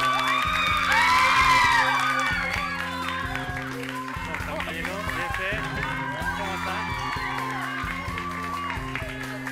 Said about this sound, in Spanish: Pido un gran aplauso para el galán de Chile